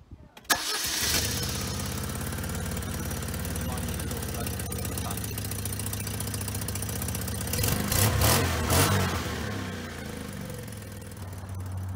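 A 1992 Fiat Panda, just adjusted after breaking down, cranks and catches at once, then settles into a steady, close idle that swells briefly toward the end, with faint talk in the background.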